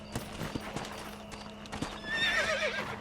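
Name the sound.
horse whinnying and hooves in the video game Red Dead Redemption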